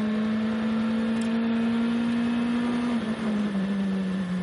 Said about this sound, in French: Dérive de Robert Kubica juste avant l'arrivée